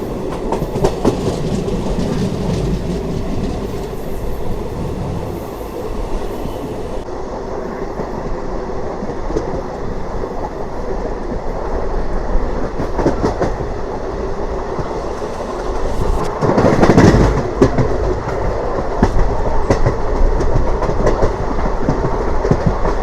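An Intercity SF Express train runs steadily from Tirupati towards Coimbatore, its loud continuous rumble mixed with clickety-clack of wheels over rail joints, heard from inside a coach with no talk.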